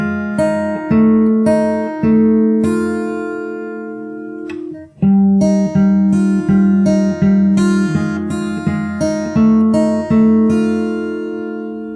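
Fingerstyle acoustic guitar plays the melody of a song, with crisp plucked notes and ringing chords in a steady rhythm, a short pause midway, then a denser run of picked notes, loud and close.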